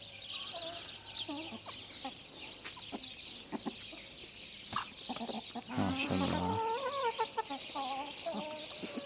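Chickens cluck and murmur nearby in a steady, busy chatter, with a brief spoken word from a person partway through.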